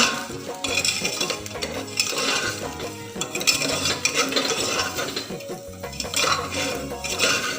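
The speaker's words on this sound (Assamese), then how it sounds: "তাৰপিছত লৰাই থাকিব" Sweet pulao cooked with ghee, butter and sugar being stirred in a pot, steady clattering scrapes of a metal spoon against the pan with a faint sizzle underneath, close and continuous.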